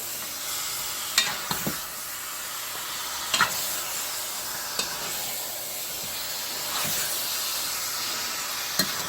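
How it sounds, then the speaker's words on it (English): Pork ribs searing in a pot with brown sugar and onion for Trinidadian stew pork, giving a steady hissing sizzle with occasional sharp pops and spoon scrapes. "In a sense, you're searing the bones or the ribs."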